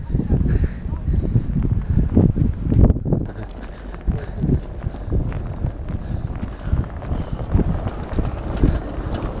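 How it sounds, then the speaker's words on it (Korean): Strong gusty wind on Marado island buffets the microphone in heavy rumbling bursts for the whole stretch, mixed with footsteps and scuffing close by. "와, 바람 너무 심한데?"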